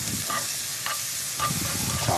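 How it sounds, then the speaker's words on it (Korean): Onions stir-frying in a pan for a Korean tomato-and-egg stir-fry, giving a steady sizzle under repeated scraping stirs about every half second, close and alone with no talk. "이렇게 양파를 잘 볶아주시고요"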